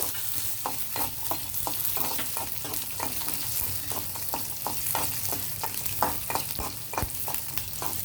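Chana dal and other ingredients roast in a pan while a spoon stirs them, giving a soft rhythmic scraping repeated many times over a low, steady sizzle, fairly quiet and close.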